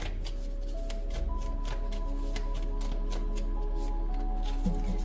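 Tarot cards shuffled and drawn during a Hindi reading, soft papery riffles and slides close by, steady throughout with a faint background hum and no talking.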